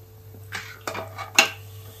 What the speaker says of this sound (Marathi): या स्टेजला आपण हे मटण आता त्याच्यात घालूया.